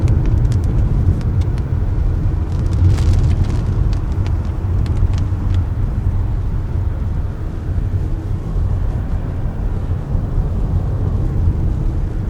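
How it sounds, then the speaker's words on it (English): A car speeds past on the road, a loud, continuous roar of engine and tyre noise that fills the whole stretch without a clear rise or fall. "look at this dickhead driving fast"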